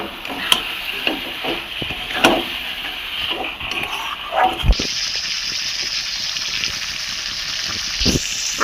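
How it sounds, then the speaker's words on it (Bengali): Mutton sizzles loudly as it is fried with spices in a pan, with a continuous hiss and intermittent scraping and clunks of stirring close by; no speech. "মটনটা দিয়ে আমি ভালো করে এবার আমি কষিয়ে নেব।"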